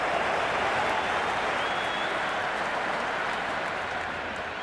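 A stadium crowd in a Cricket 2026 PSL match between Karachi Kings and Lahore Qalandars roars in a dense, sustained wash of cheering that holds steady and only slightly eases toward the end.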